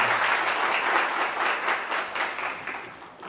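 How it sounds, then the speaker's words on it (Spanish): Sustained audience applause after a talk about the life and work of Iguíniz, a dense wash of many hands clapping at steady loudness throughout, with no voices over it. "Y pues un aplauso para el maestro,"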